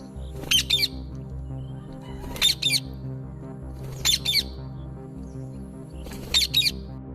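A parrot gives four loud, harsh squawks spaced about two seconds apart. Each squawk is a short doubled burst over a quiet background hum.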